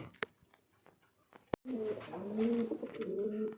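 A sharp click, then pigeons cooing close by on a pigeon farm, low rolling coos repeating steadily over faint background noise.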